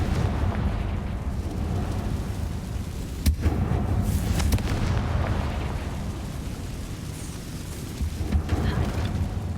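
The Confringo fire spell goes off in Hogwarts Legacy with a sharp, booming burst over a rumbling, dense game soundscape. Further crackling blasts follow amid steady background noise.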